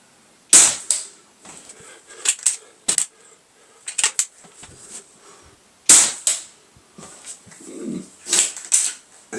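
Weihrauch HW30K air rifle firing at targets, a series of sharp, close cracks and pellet impacts spaced a second or two apart, with short rattles and softer knocks between shots.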